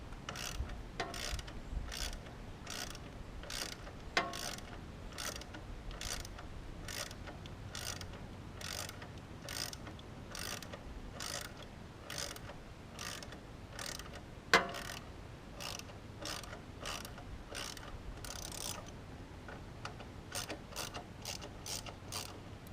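A ratchet works the bottom shock bolts loose on a Harley-Davidson Dyna Wide Glide, rapid rhythmic clicking bursts repeating close up with a couple of sharp metallic knocks.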